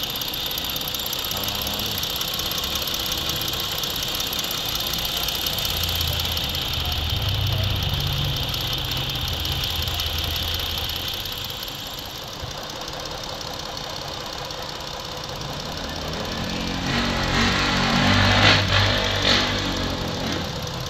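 A Ford Explorer 3.5 engine with milky, contaminated oil idles steadily close by, with a continuous mechanical hum, a ticking, knocking texture and a faint high whine that swells a little toward the end, and no talk.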